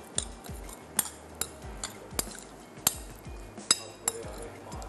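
Utensils clink repeatedly against a glass bowl while pasta ingredients are tossed with olive pomace oil and salt, a steady series of sharp close taps over soft background rustle.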